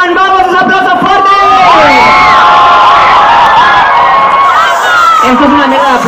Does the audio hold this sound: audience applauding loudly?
yes